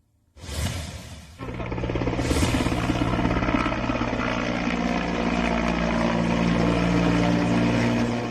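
An Indian Army helicopter showers flower petals over a COVID hospital in Madhya Pradesh, its rotor and engine roar swelling in quickly and holding loud and steady as it passes overhead.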